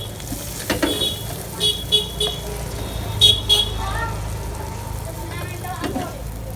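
Egg half fry sizzling on a hot pan at a street egg stall, with a steady low frying hiss, brief clinks, and traffic and car horns faintly in the background.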